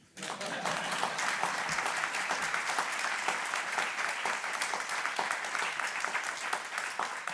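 Audience applause at a corporate governance seminar, a steady wash of clapping from a full room that starts abruptly and holds evenly for several seconds, with no voices over it.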